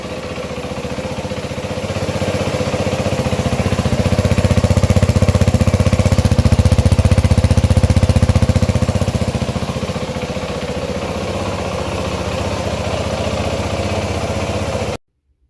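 A 2012 Yamaha WR450F motorcycle engine fires on the electric starter and runs with a steady, loud, rattling thrum that swells in the middle, holds, then cuts off abruptly at the end, with no talk.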